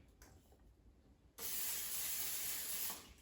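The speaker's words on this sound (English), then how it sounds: "I'm going to spray the air fryer basket with a non-stick cooking spray." A single sustained hiss of non-stick cooking spray into an air fryer basket, starting abruptly after a quiet moment and holding steady for about two seconds before stopping.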